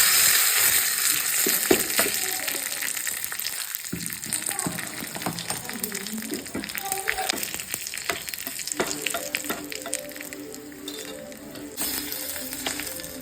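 Mustard seeds and curry leaves fry in hot oil for a sambar, giving a loud, steady sizzle with crackling pops and spits that runs throughout and eases slightly after a brief dip.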